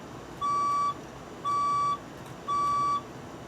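Fire alarm test signal: three evenly spaced, loud steady electronic beeps, each about half a second long, sounding alone with no talking.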